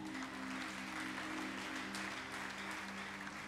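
A church congregation claps together in a dense, even wash of applause that carries on at a moderate distance, with a low hum running underneath.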